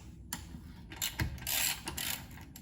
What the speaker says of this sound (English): If you have a ratchet like me, just switch this so it's tightening.